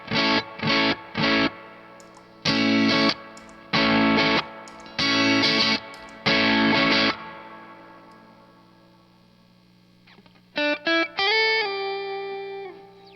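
Electric guitar runs through a Protein pedal with its blue and green overdrive sides stacked, playing loud, short chopped chord bursts in a stop-start rhythm, then a ringing decay and a few quick picked notes near the end.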